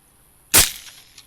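A single sharp rifle shot fired at a running coyote during a hog and coyote hunt, loud and close with a quick echoing tail and a faint second report about half a second later.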